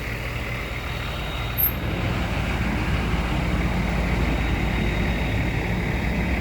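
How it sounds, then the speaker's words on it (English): A small water truck pulls out of an equipment rental yard, its steady, low engine rumble and broadband road noise continuing evenly at moderate distance, with a brief hiss of air near the start. "Our little water truck's leaving today."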